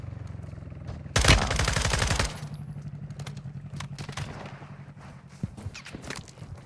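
Gunfire in a video game: one loud, close burst of rapid automatic shots lasting about a second, followed by scattered footsteps and faint clicks.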